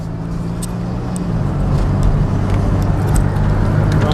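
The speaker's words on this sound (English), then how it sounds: "This is the first time I ever drove this car." Interior drone of a 2001 Chevrolet car with a suspected fuel pump problem being driven, a steady low engine hum that swells slightly as it picks up speed, with no talking.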